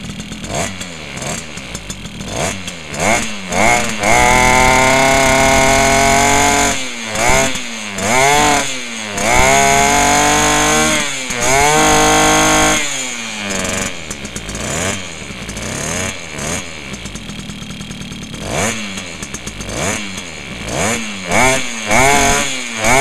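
A Motobecane moped engine with a leaking fuel problem runs steadily and loudly up close, its buzzing note rising and falling with throttle blips and rattling vibration throughout.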